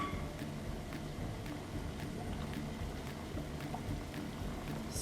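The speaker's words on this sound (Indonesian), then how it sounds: "Ini air sudah mendidih ya." Water boils in a pot while a steamed rice-flour layer cake is being prepared, a faint, steady bubbling rumble with light ticking pops scattered through it, with no voices.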